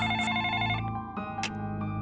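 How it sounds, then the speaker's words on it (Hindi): Phone ringtone chiming loudly and close by, a steady tonal melody filling the whole short stretch with no speech. "तभी एकदम से फोन की रिंग बजती है।"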